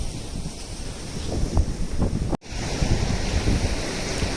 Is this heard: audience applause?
no